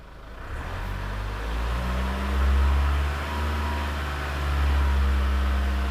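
A SsangYong Rexton Sports Khan idles in neutral with the parking brake on, then its engine is raised to a steady high RPM, a loud, continuous drone that swells and holds close by with no one speaking.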